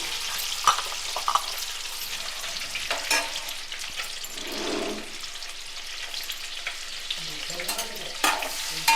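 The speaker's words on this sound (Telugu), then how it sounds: "ఇదిగోండి గుడ్లు వేగుతున్నాయి కదా" Eggs fry in a pan, a soft steady sizzle broken by a few sharp scrapes and clinks of a spatula stirring, with no voices.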